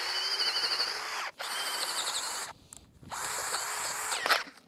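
A powerful drill with a large-diameter bit bores into a wooden log, giving a loud, high-pitched whine in three long runs with brief stops and pitch dips under load.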